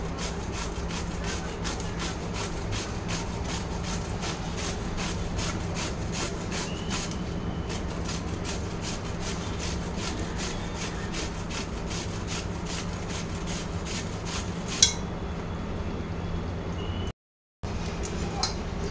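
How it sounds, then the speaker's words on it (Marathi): Cucumbers rasp across a hand grater in steady, rapid strokes, a continuous rhythmic scraping that stays close and even throughout, broken by one brief pause near the end. "सर्व काकडी अशा किसणीने किसून घेऊया."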